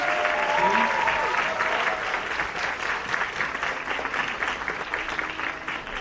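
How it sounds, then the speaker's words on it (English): A school audience applauds a middle and high school band at an end-of-year band presentation, producing steady, dense clapping from start to finish with a few faint voices underneath. "one round of applause for them"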